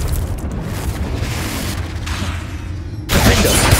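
A Confringo fire spell goes off in Hogwarts Legacy as a loud, dense rumbling burst that sustains for a few seconds and then swells into a sharper second blast near the end.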